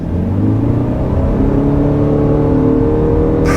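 A Ford Maverick Hybrid pickup under full-throttle acceleration, its engine droning loud and close with a rising whir as revs climb steadily, no talking.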